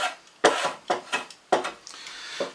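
A hand tool rounds over a 45-degree bevel on a wooden patio chair part, making five close, rasping rub strokes in an uneven rhythm with short pauses between them.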